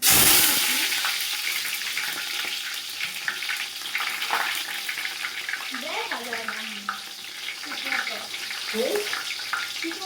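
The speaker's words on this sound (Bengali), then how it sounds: "তো পেঁয়াজটা একটু হালকা ভাজা ভাজা হোক" Sliced onions frying in hot oil with bay leaves in a large pot for pulao, a steady loud hiss throughout, with a voice talking over it in the latter half.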